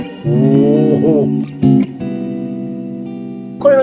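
Electric guitar played through an amp-style pedal set to plate reverb, with sustained notes and short phrases ringing out in a lush, smooth reverb tail, loud and close, ending on a brighter, higher note.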